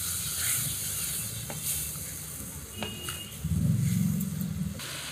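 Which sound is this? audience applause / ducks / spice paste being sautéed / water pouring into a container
spice paste being sautéed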